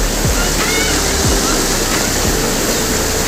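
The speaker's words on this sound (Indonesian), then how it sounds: "Kita bisa lihat airnya keras banget" Strong, loud rushing water of a mountain-fed natural bathing spot in a village forest in Karangasem, Bali, a steady broadband roar filling the whole clip with no break.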